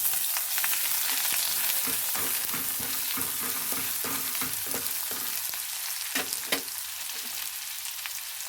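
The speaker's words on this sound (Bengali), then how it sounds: "এর মধ্যে দিয়ে দেবো এবারে টুকরো করে কেটে রাখা পেঁয়াজ কুচি" Chopped onion frying in hot oil after a bay leaf, a continuous bright sizzle with rhythmic stirring scrapes partway through and a couple of sharper knocks near the end, close up.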